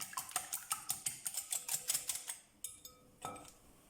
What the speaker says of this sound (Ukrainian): В миску вбиваємо 4 яйця, додаємо пів чайної ложечки солі і збиваємо вінчиком до однорідності.